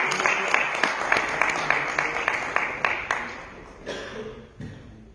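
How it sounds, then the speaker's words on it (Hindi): A short burst of applause from a small group, claps fading out over a few seconds. "एक बार तालियां बजा रहे हैं"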